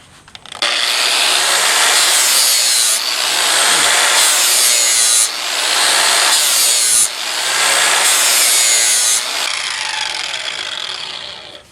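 An American Sharpener Model 5005 grinds a blade in loud, sustained bursts of harsh abrasive rasping, with a few short breaks and shifts in tone between passes and no talking.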